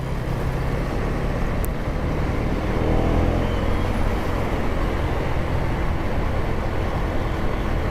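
Steady road traffic rumble surrounds a KTM Duke 250 motorcycle on a sunset ride, a dense low-frequency wash of passing vehicles and engine noise that holds at a constant level throughout, with no talking.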